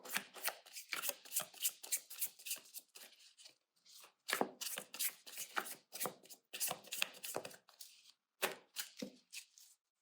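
Tarot cards being shuffled in repeated quick riffling bursts, close and crisp, with brief pauses between rounds and no talking.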